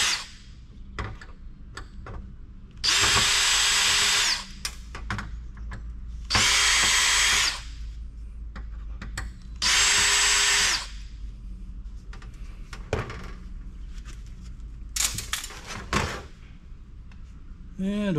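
A power drill with a Torx bit whirs in three loud bursts of about a second and a half each, backing screws out of a high-end network switch, with clicks and handling clatter between.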